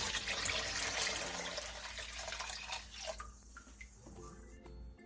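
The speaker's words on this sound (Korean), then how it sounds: "물김치를 담을 통에 찹쌀물 4리터를 부어주세요." Glutinous rice water, four liters of it, poured into a container for making water kimchi: a steady, full splashing and gurgling stream that thins and trickles off near the end.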